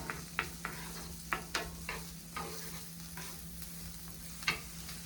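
Garlic cooking in a pan gives a faint, steady sizzle under a quiet electrical hum, broken by several sharp utensil clicks and stirs, with no talking.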